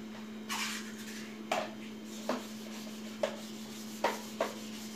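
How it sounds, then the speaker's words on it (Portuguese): Removed metal stove parts are hand-sanded to strip old paint, about six short scraping rubs at an uneven pace over a steady low electrical hum, close and moderately loud, with no talking. "agora ele tá lixando as partes que eu tirei do fogão"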